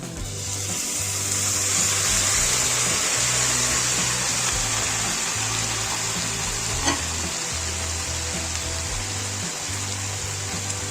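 Red amaranth leaves fry in a pan with ingredients including lentil bori, giving a steady, close sizzle with soft rustling across the whole stretch and a brief stir knock midway.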